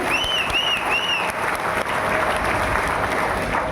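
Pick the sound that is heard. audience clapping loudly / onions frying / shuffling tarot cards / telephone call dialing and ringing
audience clapping loudly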